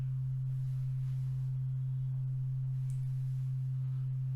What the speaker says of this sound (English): I'll stop talking and I'll just play the C note.